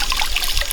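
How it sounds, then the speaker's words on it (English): Fresh mountain water trickles steadily from a fountain in Lötschental, Switzerland, a brief, continuous splashing and dribbling close by with no voices. "Fresh, clean, crisp mountain water fountains can be found all around the valley."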